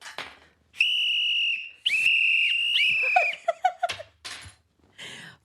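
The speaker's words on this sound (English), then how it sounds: "Where's our whistle?" Shrill whistle blasts: two long sustained tones, then a run of short chirping toots, with brief noisy shouts between.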